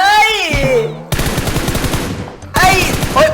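A rapid, loud burst of automatic gunfire in PUBG Mobile, sustained for over a second between excited speech.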